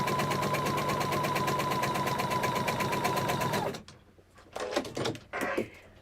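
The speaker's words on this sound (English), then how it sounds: "I'm starting off the edge and just stitching right down" A sewing machine stitches a foundation paper piecing seam through paper at a 2.0 stitch length, running steadily and loudly for about four seconds before stopping, followed by a few short handling clicks and rustles.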